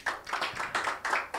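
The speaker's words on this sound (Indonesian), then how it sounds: "Tepuk tangan yang keras." A church congregation at a Sunday service claps loudly in quick, irregular bursts, close and crisp, with no talking over it.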